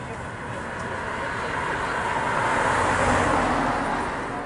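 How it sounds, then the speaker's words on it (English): A car passes close by on a road near a beach, a broad steady roar of tyres and engine swelling slightly toward the middle and easing off, with voices talking over it. "Where in the world of Solomon did that car come from?"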